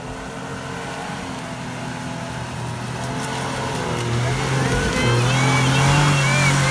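A kei van drives along a forest dirt road, its small engine droning and gradually rising in pitch and loudness as it climbs and revs, with rattles and bumps from the rough track.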